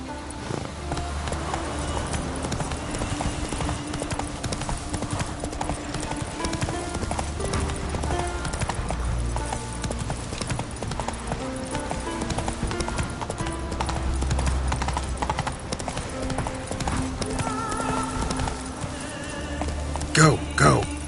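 A horse gallops in The Witcher 3, its steady, rhythmic hoofbeats continuous and fairly loud over a dense bed of game music and ambience for the whole stretch.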